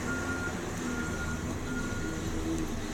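A reversing van sounds its steady backup beeper, evenly spaced tones repeating about once every half second, moderately distant under quiet outdoor traffic ambience.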